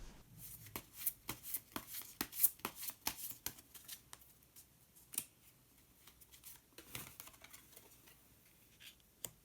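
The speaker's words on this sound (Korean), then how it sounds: "색깔로 알아보는 컬러 카드 한 장 더 뽑아보도록 하겠습니다" Cards from a colour card deck shuffled and drawn by hand, with a run of crisp, papery riffles and flicks, busy for the first half and then sparser taps and slides, close and fairly quiet, with no talking.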